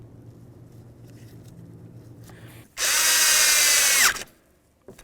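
A power drill snugs bolts on the 4WD actuator bracket of a 1994–2004 Chevy S-10, whirring loud and steady for about a second and a half after a quieter stretch of low background noise.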